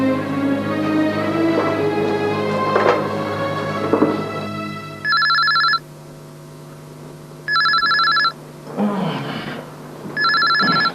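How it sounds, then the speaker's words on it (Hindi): A telephone rings in a 2001 PTV drama scene: three bright bursts of ringing with gaps between them, coming in after soft background music, and a voice speaks briefly in one gap. "किसका फोन है?"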